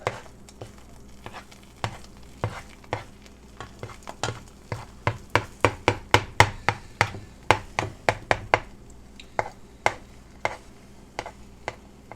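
An egg frying in butter in a pan is pushed around with a spatula, giving a quick run of sharp taps and scrapes that cluster in the middle and thin out, over a faint steady sizzle, with no talking.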